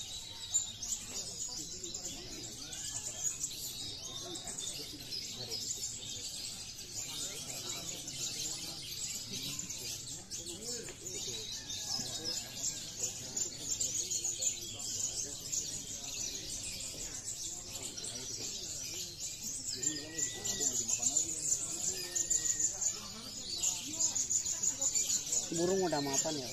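Lovebirds chirp and tweet in short bursts over a steady high-pitched insect-like drone, with someone talking throughout at moderate volume.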